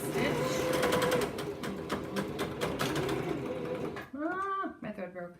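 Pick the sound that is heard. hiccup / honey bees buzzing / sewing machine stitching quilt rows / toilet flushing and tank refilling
sewing machine stitching quilt rows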